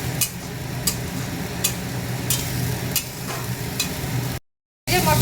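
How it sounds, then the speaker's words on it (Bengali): Spice masala for a tangra fish curry fries in a pan with a steady close sizzle, broken by regular stirring scrapes, then a brief dead silence before the sizzling resumes. "যে মশলাটা ভাজা হয়ে গেছে"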